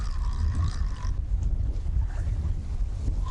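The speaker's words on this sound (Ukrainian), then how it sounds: "Вітер такий на водоймі, друзі." Gusty wind over open water buffets the microphone with low rumbling roars, a faint tonal whine fading out in the first second over breezy outdoor air.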